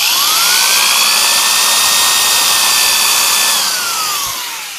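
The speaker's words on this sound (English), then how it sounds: "Now I'm going to drill a pilot hole to put the nail in" An electric drill bores a pilot hole into a particle board resonator box, a loud close whine that ramps up, holds steady for a few seconds, then winds down as the bit stops.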